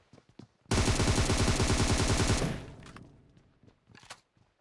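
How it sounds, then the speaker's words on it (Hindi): Loud sustained burst of automatic gunfire from a PUBG Mobile match, a rapid rattling volley lasting nearly two seconds, followed by a fading echo and a few scattered distant shots. "अब इस लास्ट बंदे को फायर देते में मैं डरा देता हूँ"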